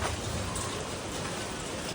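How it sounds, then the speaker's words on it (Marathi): Heavy rain pouring down in a dense, constant hiss that fills the space, loud and steady with no voices. "पाऊस बघा किती पडतो आज"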